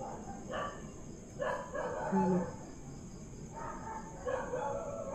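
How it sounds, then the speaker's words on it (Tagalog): Dogs bark in short clustered bursts at a distance, a few barks at a time, over a steady background hum. "Ang ingay ng mga aso ni kuya nga."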